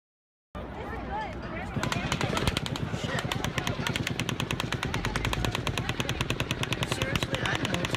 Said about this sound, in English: You can hear it on the rhythm of the shots fired.